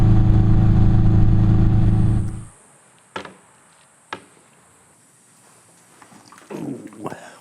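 Cafe racer motorcycle engine revving loudly and close for about two seconds, then cutting off abruptly, followed by a few brief knocks and faint rustling.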